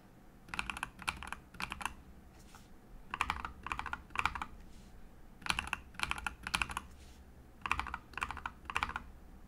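Bursts of crisp clicky keystrokes on Nuphy mechanical keyboard switches, Night Breeze and Baby Raccoon, come in short rhythmic typing runs separated by brief pauses, close and clear with no talking.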